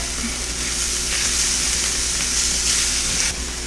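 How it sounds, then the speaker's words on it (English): Garlic sautéing with onions and mushrooms in a hot pan gives a loud, steady sizzle and hiss throughout, with faint stirring noise and no talk. "I'm going to add the garlic and just saute it for about a minute"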